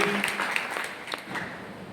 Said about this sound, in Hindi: एक्सीलेंट, जोरदार तालियां टीम के लिए।